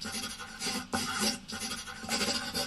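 Rough scratching strokes rasp in short bursts, like chalk dragged across a chalkboard, a drawing sound in the video game Draw Stickman Epic 2, close and alone.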